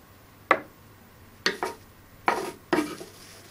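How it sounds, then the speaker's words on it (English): A palette knife scraping acrylic paint on a canvas during acrylic pouring, four short sharp scrapes spaced about a second apart, close and clear with no talk. "Gotta get the palette knife, because I gotta pull it just a little bit more on the side here"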